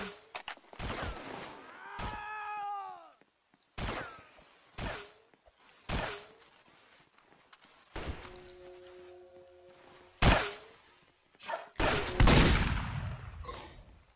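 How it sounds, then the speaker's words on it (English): Shotgun blasts in a video game, several sharp separated booms at irregular intervals, mixed with brief in-game tones and chimes. "shotgun."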